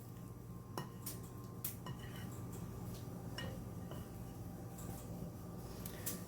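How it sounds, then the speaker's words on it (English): Cornbread batter is stirred in a bowl, with a spoon clinking and scraping against the sides in irregular, quiet taps over a low room hum. "hang on now, you're stirring too much"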